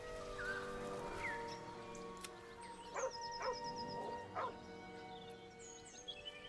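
Scratch the dog in Baldur's Gate 3 gives a few short barks and yips in quick succession mid-scene, with soft whimpers and high whines around them, fairly faint against quiet ambient game sound, no talking.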